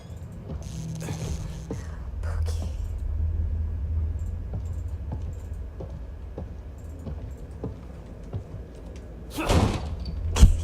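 A door in The Evil Within 2 video game sounds through a low rumbling ambience, with scattered knocks and clicks and a sharper loud bang near the end; no talk is heard over it.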